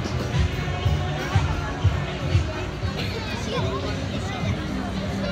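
Outdoor crowd chatter at Disney Springs, a dense murmur of many voices with footsteps and bits of nearby talk blending into a steady hubbub.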